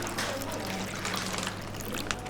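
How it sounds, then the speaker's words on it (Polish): Water is poured out in a coffee-making setting, a continuous splashing trickle heard close for a couple of seconds with light clinks over background noise. "Pamiętajmy o tym, żeby wylać tę wodę."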